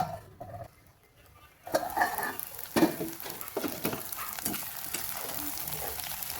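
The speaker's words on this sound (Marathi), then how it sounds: "डायरेक्ट आलू घेतला आणि तो फ्राय करायला टाकला" Potatoes for sabudana khichdi drop into hot oil after a quiet start, and a loud, steady sizzle begins, broken by a few clinks of stirring in the pan.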